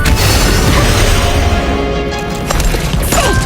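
Bomb explosion in the video game Honkai Impact 3rd, a loud, dense booming blast with crashing impacts that fills the whole stretch, with no clear talking.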